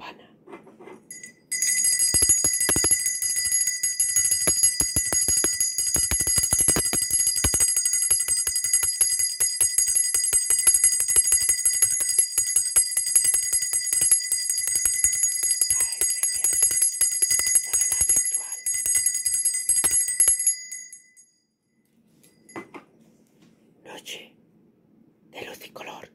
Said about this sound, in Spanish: sonido de campana